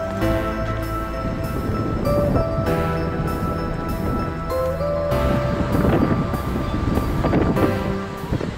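Steady wind roars into the microphone on a crowded beach on the Dapeng Peninsula in Shenzhen, China, a constant broadband rush with faint tones and a background murmur of people throughout.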